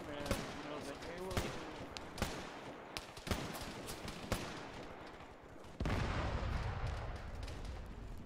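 Video game battle with repeated gunfire: sharp shots at roughly one-second intervals over a busy background of combat noise, then a louder rumbling wash of firing near the end.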